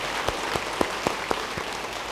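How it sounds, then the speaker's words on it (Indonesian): A church congregation claps at a Sunday worship service in a steady, slow rhythm of distinct claps, about one every quarter second, moderately loud and close, with no voices over it. "beri tepuk tangan buat Tuhan"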